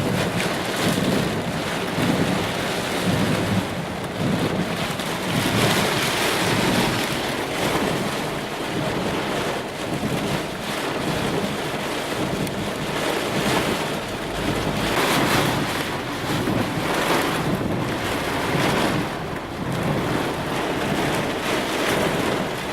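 Damaging winds in the Jackson, Mississippi metro buffet a vehicle, a loud continuous roar and rumble that surges and never lets up.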